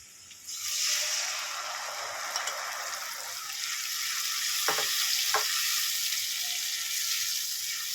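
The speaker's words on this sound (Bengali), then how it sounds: "পেঁয়াজটা দেখুন ভাজা হয়ে এসেছে এবার আমি এর মধ্যে পেস্টটা দিয়ে দেবো" Onions sizzle steadily in a hot pan as a spice paste of ginger, dried red chilli and cumin goes in for a Bengali rohu fish curry, with a couple of brief clatters midway and no talk.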